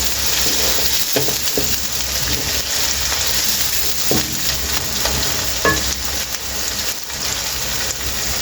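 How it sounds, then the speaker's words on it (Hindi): Green chillies fry in hot oil in a pan for aloo matar moongray sabzi, a loud, dense continuous sizzle with occasional spoon scrapes and pops, up close. "इसको थोड़ी देर फ्राई करेंगे मिर्चें डाल के।"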